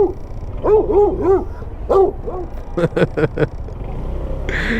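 A dog barks several times in short bursts near a scooter during food delivery on the street, with traffic and engine noise underneath.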